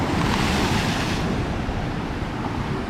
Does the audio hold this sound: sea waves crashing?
yes